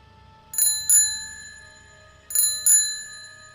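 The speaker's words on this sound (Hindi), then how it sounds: "तभी उस घर के दरवाजे पर एक साइकिल रिक्शा की घंटी सुनाई दी।" A cycle rickshaw bell rings at a door in two quick double rings, bright, metallic and close, each ring fading, with a quiet pause between the pairs.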